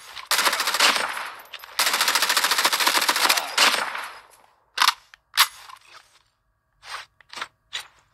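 Automatic gunfire in the mobile shooter Call of Duty Mobile, two long loud bursts of rapid shots followed by several short, sharp single shots and brief bursts, with no talk.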